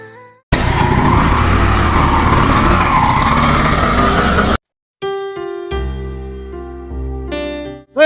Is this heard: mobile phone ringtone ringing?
no